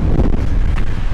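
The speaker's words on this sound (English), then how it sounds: "with the wind blowing" Strong wind at a lakeside campsite on Lake Texoma in Oklahoma buffets the microphone with a steady, loud low rumble and roar, with no voices.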